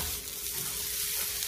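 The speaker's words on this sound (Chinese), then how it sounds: "加埋啲姜片落去，爆一爆啲姜片" Ginger slices sizzle and crackle in hot oil in a wok, a dense, close, continuous frying hiss with faint stirring, lasting under two seconds.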